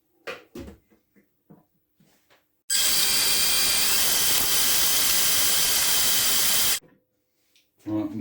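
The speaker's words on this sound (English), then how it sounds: "Give that a blend up now." A blender whirs through a chilli mixture with white vinegar, a loud steady hissing roar lasting about four seconds that starts and stops abruptly, with brief clatter and knocks before and after.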